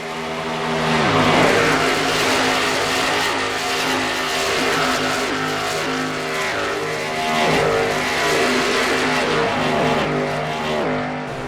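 Race cars roar around a Las Vegas oval in NASCAR Racing 2003 career mode, a dense pack of engines droning loudly together with steady overlapping tones and slight swells as they pass close by.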